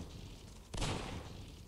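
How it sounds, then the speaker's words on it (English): A suicide bomber's explosion in the game Sniper 3D Assassin: one sudden, dull boom that decays into a rumbling tail, quiet and heard alone. "hear that explosion? That was a suicide bomber that I didn't get a chance to shoot at"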